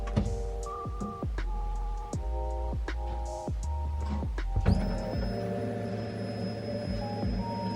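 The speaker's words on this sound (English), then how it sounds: "let me know if you hear the fuel pump" A Dw300 electric fuel pump is heard in a car, first as a series of repeated whirring pulses, then as a continuous high-pitched electric whine and hum.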